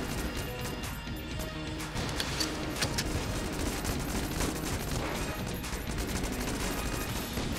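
Shotgun blasts and gunfire from the video game Enter the Gungeon, a rapid series of sharp cracks and crashes over a busy game soundscape, fairly loud and continuous.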